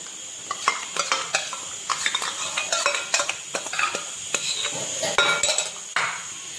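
A spoon scrapes and clinks against a pan as whisked curd is stirred into oily masala over low heat, a steady run of sharp metallic strokes with a faint sizzle beneath.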